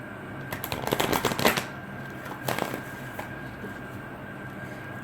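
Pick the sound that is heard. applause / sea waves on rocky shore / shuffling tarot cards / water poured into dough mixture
shuffling tarot cards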